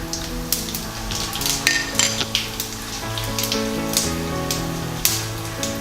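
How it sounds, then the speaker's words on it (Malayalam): Mustard seeds and cumin dropped into hot oil for a bottle gourd dal tempering crackle and spit in a dense, steady sizzle, with scattered sharper pops close by throughout. "അപ്പോൾ ഇതിലേക്ക് നമുക്ക് കടുകും ജീരകവും ഇട്ട് കൊടുക്കാം."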